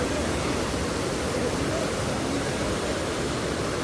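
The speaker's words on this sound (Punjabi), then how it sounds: "ਇੱਧਰਲੇ ਪਾਸੇ ਵੀ ਤੁਸੀਂ ਦੇਖ ਸਕਦੇ ਭਾਈ ਪਾਣੀ ਕਿੰਨੀ ਤੇਜ਼ੀ ਨਾਲ ਆ ਰਿਹਾ ਵਾ" The swollen Ganges river rushes past at Rishikesh in high flow under light rain, a steady, dense roar of moving water that continues unbroken at moderate volume.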